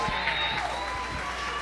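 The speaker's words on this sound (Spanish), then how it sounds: "Démosle un aplauso al duende, a Iván Bolaños" Audience applause for Iván Bolaños at a live tribute event, a steady wash of clapping that fills the moment with a few louder claps near the start.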